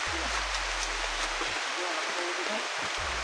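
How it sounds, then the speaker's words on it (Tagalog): Heavy rain pours down in a dense, steady hiss that fills the whole moment, with voices talking briefly underneath. "Oh, lakas ng ulan."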